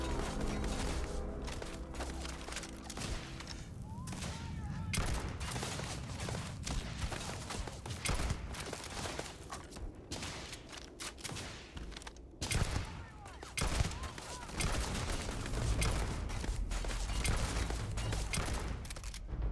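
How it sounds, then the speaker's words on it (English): Sustained gunfire in the space game Starfield during a mine firefight, with dense bursts of automatic weapon fire and shots crackling continuously for the whole stretch at steady loud level, without voices. "How am I missing my shots so much?"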